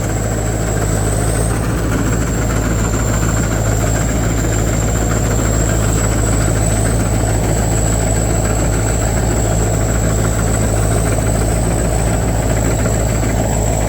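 A combine harvester's engine runs steadily in Thailand, a loud, continuous idle-like rumble with a constant high whine, no talk over it.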